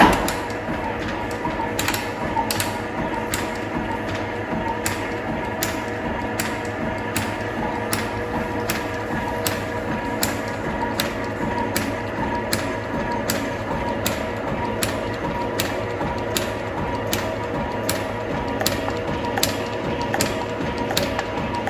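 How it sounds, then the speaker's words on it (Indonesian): A metal shaping machine planes a hammer head in a manufacturing workshop, its cutting ram producing a steady, evenly spaced clacking stroke over a continuous mechanical hum, loud and close throughout. "lalu kita aktifkan lagi penggerak otomatisnya seperti tadi, lalu kita nyalakan mesinnya"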